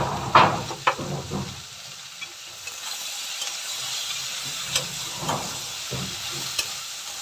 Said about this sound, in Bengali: হলুদ, দিয়ে নাড়াচাড়া করে নেবো বন্ধুরা